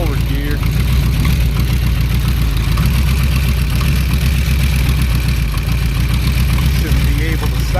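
Ford 351W V8 with C4 transmission idling in forward gear, a steady loud low rumble throughout, with someone talking over it.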